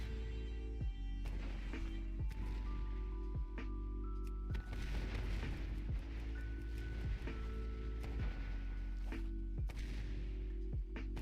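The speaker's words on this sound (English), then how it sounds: "All guns, fire at will." Repeated heavy booms of guns firing at flying bats in World of Warcraft, spaced every second or so over a low rumbling engine-like drone with game tones, no talk.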